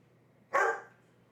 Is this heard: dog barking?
yes